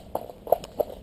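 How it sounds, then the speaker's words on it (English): A Clydesdale-type cob horse canters, three distinct hoofbeats landing in an even rhythm, close and clear with no talk. "So Higgins has the most fantastic canter,"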